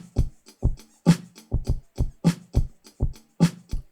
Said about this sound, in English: the soft kit with really soft kick,